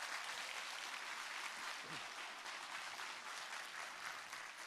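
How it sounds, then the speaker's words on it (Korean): A large audience applauds at a university student orientation ceremony, a dense, steady wash of clapping that holds loud and even from start to finish with no voices over it. "큰 박수 부탁드리겠습니다"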